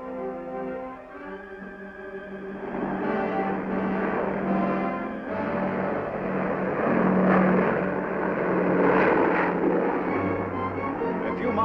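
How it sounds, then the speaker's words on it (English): American propeller planes drone overhead on patrol above postwar Japan, a sustained engine hum that swells and recedes over about twelve seconds, moderately loud and distant. "Overhead, American planes patrol."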